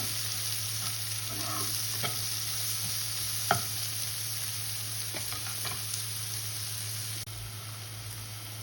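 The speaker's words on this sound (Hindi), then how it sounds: "इससे इतना तो फ्राई करेंगे कि ये सॉफ्ट हो जाए" Onions softening in a pan over medium heat, a soft steady sizzle with occasional stirring scrapes and taps of a spoon, under a constant background hum.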